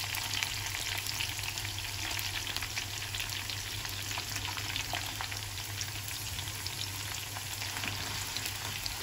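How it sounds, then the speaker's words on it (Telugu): Ginger garlic paste frying in a clay pot, with a steady, dense sizzle and crackle that runs evenly throughout. No voices are heard. "వేగుతున్నప్పుడు అల్లం వెల్లుల్లి పేస్ట్,"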